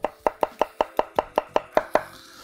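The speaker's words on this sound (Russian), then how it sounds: "Я нарезаю тонко прямо, как можно тоньше все это дело." Ten quick, evenly spaced knife chops thinly slicing vegetables on a cutting board, crisp and close, followed by a brief quiet moment.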